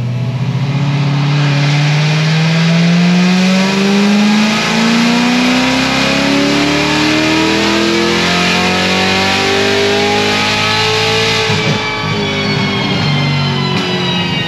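A 1000-horsepower C7 Corvette Z06 on a pull, the engine note climbing steadily in pitch as it revs hard, loud and close, then cutting off near the end.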